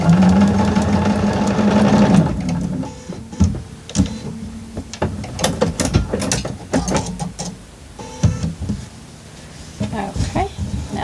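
A sewing machine stitches the edges of quilt pieces with a brief steady mechanical whir, followed by clicks, taps and fabric handling while a person talks.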